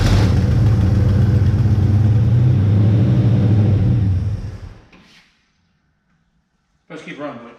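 Old V8 engine of a 1964 Chevrolet Malibu SS with a questionable fuel pump runs loud and rough for about four seconds, then dies off into silence before a brief sputter of restart noise at the end.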